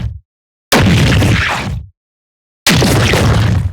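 Two bursts of a processed footstep effect built from desk objects, pushed through heavy saturation, transient shaping, clipping and an all-pass filter, giving a squishy, laser-like zap; loud, broadband and separated by silence.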